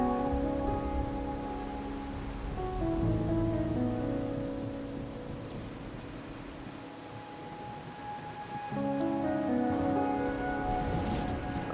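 Steady rain pours down in a rainy town scene from the video game Wuthering Waves, a constant wash of dense drops on surfaces with soft musical tones playing underneath throughout.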